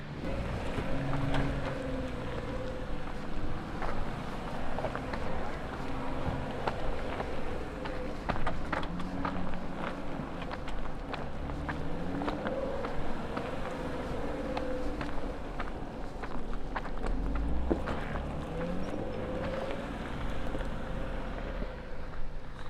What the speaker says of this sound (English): keep the engine on to keep those fans going